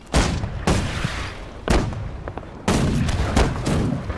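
Naval cannon fire in the multiplayer game Holdfast: Nations at War, heard as a series of heavy booming shots at irregular intervals, some overlapping with rolling echoes, loud and without talk.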